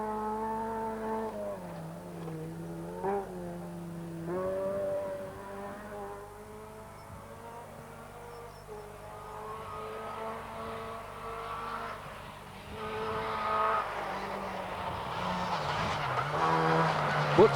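Rally car on a stage, engine revs rising and falling with brief tire skids and squeals, mid-distance and fairly quiet, building louder toward the end with faint voices underneath.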